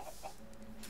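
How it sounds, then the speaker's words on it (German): Small flock of chickens in the Minecraft FTB modpack clucking softly in short, scattered calls, with a steady faint background hum and no talk. "Mir folgt hier gerade so eine kleine Hühnerschar."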